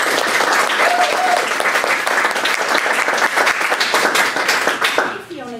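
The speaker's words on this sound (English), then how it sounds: "Please give a round of applause to Culver School fourth grader Fiona Ray" An audience applauds a fourth grader at a public library board meeting with steady, dense clapping that carries throughout and tapers off at the end.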